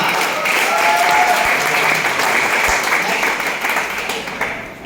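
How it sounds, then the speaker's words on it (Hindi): An audience at a business income-plan presentation claps loudly and steadily, the dense applause easing slightly toward the end. "तो हमारे मेटाल ग्रुप की जो सीनियर मैच मिले उनके लिए जोरदार तालियां।"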